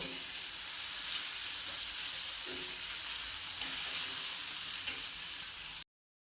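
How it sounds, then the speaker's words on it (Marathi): Onion, green chilli and crushed peanut thecha sautéing on a low flame, a soft, even sizzle throughout with a faint clink near the end before it cuts off. "आता हे छान असं परतून घ्यायचे कमी गॅसवरती"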